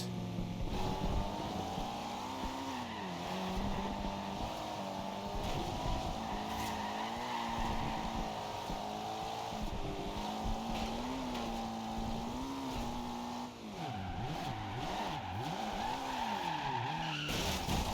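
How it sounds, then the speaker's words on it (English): BMW E92 M3 sliding sideways in Forza Horizon 2, a continuous loud engine note wavering up and down under sustained tire squeal, with a brief dip before the engine swells again. "Get sideways in a BMW E92 M3."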